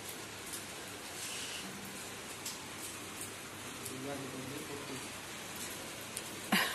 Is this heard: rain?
yes